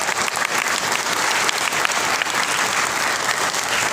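A workshop audience breaking into loud, dense applause, many hands clapping together in an even, sustained burst with no voices.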